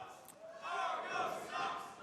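A lucha libre wrestling crowd jeers and shouts at a wrestler in an arena, a swelling roar of many voices that rises midway and stays loud.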